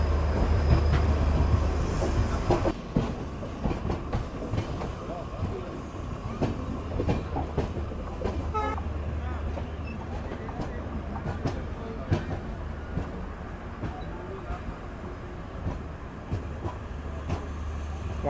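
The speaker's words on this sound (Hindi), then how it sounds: "यहाँ खूबसूरती से अपनी ट्रेन रेवाड़ी जंक्शन पहुँचती हुई" Ashram Express pulling into Rewari Junction, a steady broadband rumble of a train rolling into the station with a loud low hum early on, continuous and fairly close.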